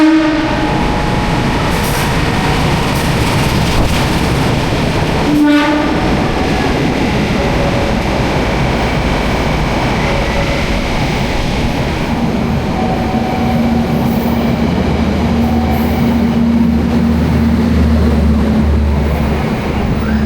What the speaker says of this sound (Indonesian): barusan kereta api Manahan ya, baru aja melintas langsung